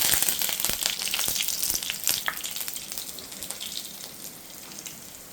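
Curry leaves drop into hot coconut oil with mustard seeds in a kadai, erupting in a loud spattering sizzle close up with sharp crackles that gradually settle and fade over a few seconds.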